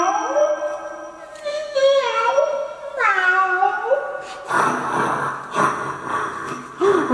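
A person imitates a cat with several drawn-out, wavering meows in close succession, loud and near, followed by a burst of breathy laughter and excited reactions from others nearby.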